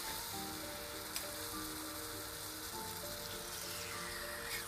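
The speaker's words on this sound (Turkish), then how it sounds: "Hatta şunu da kızartayım ya madem öyle." A soft, steady sizzle of marinated chicken frying in a pan, with faint clinks and kitchen hum underneath.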